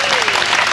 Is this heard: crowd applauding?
yes